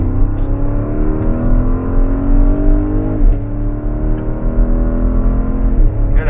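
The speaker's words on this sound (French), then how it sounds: "Là, la voiture elle est à son maximum en termes de puissance et en termes de bruit." A Porsche Cayenne Coupé Turbo with 550 hp runs at full power in Sport Response mode, its loud engine roaring and climbing through repeated rising revs and gear shifts from inside the cabin.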